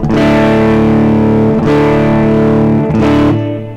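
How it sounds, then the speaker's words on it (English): A distorted electric guitar rings out sustained chords with a thick, full humbucker tone, changing chord twice before fading, no voices present. "There's without, there's with, to give that 2 humbucker sound."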